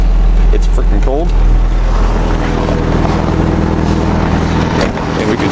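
A 2018 Ford Ranger idles after a cold start in freezing weather, a loud, steady engine drone close to the microphone with a faint whine, while people talk over it.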